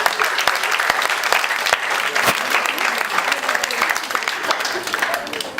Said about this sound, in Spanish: Lili, también su aplauso.